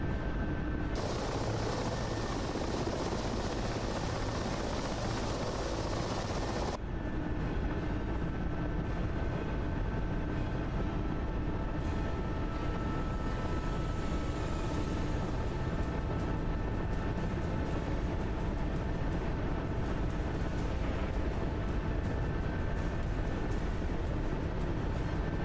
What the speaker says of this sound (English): I sense an afterburner.